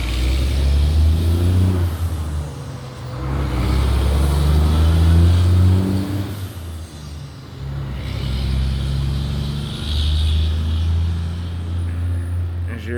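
A truck engine labours up a slope in hot weather, a steady low rumble that swells and eases over several seconds, with someone talking throughout.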